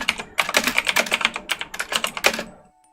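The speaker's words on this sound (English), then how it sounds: "I don't like the typing." Rapid clattering keystrokes on a computer keyboard, a steady burst of close, crisp clicks lasting a few seconds before stopping abruptly.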